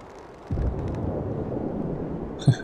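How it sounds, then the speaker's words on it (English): Secondary explosions in the Ghost Recon Wildlands video game, a deep rumbling boom that swells and lingers, followed by a couple of short sharper bursts. "Secondary explosions."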